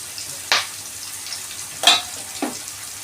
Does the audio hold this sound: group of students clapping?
no